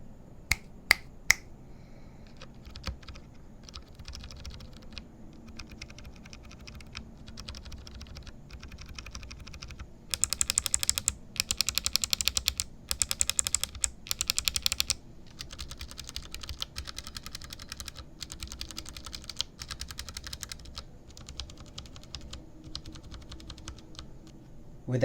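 Typing on a mechanical keyboard fitted with Duroc, Kailh, Gateron and Akko switches, a steady run of fast, close clicks with a few louder bursts of sharper keystrokes, with no talk.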